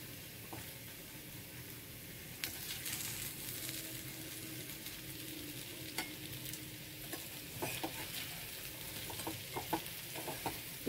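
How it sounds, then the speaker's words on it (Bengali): Onions fry in a pan with a soft, steady sizzle, punctuated by occasional sharp scrapes and taps of stirring that grow more frequent toward the end, all fairly quiet and close. "দেখতেই পাচ্ছ লাল লাল পেঁয়াজিটা ভাজছি।"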